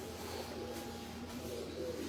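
Pigeons on a Lahore rooftop coo softly in a low, continuous murmur, faint and close against steady background hum.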